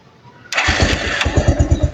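A Rouser 180 motorcycle fitted with an NS200 CDI coughs to life abruptly and settles into a loud, close, rhythmically thumping idle.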